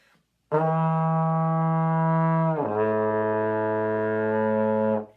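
A trombone sounds two sustained notes in second position, one after the other. The first is held about two seconds, then it steps down to a lower note held just as long. Both are played steady and clear, with no talking.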